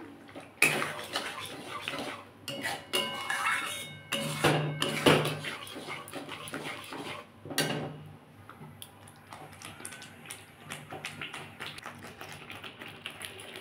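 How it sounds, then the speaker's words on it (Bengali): A spatula scrapes and clatters against a pan while spiced gravy fries, with repeated sharp metallic knocks and scraping strokes at an uneven rhythm, close and fairly loud, set over a soft background sizzle. "আমি আরেকটু ভালো করে নেড়ে নেবো, কষিয়ে নেবো।"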